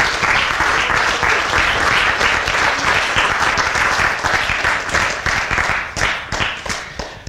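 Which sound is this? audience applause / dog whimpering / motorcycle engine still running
audience applause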